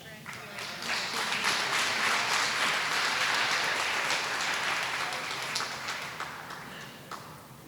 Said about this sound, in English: Let's give a round of applause to our honored retirees.